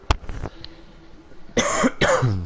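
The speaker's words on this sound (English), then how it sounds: "I do apologise for the coughing again" A man coughing during a racing-game commentary, one sharp cough at the start and then two harsh, loud coughing bursts close to the microphone near the end, with no talk.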